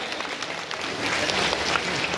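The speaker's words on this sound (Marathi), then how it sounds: "उमेदवारांसाठी आपण एकदा जोरदार टाळ्या वाजवून त्यांचं स्वागत करूया।" Crowd at a political rally for election candidates, clapping steadily and fairly loudly throughout, swelling slightly about halfway through, with no voices on top.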